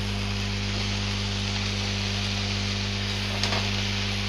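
Water lily stems go into a pan of already fried shrimp, raising a constant close frying hiss over a low steady hum, with one brief soft clatter near the end.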